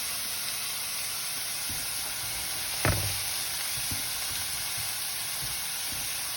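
Mushrooms drop into a hot pan with one sharp thump and then settle into a soft, steady sizzling hiss. A faint knock follows shortly after, and no one talks.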